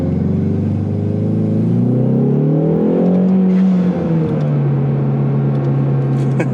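A Ford Mustang with a 10R80 transmission launches hard in second gear at full throttle. The engine note climbs in a loud rising roar, then levels into a sustained high drone, heard close with no talking.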